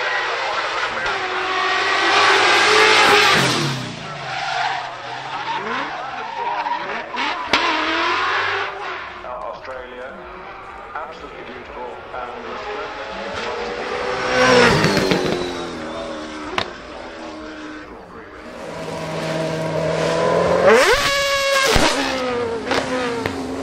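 A Nissan GT-R race car at the Goodwood Festival of Speed roars past close by with loud, rising revs and sharp gear changes, the engine note swelling and fading over several runs.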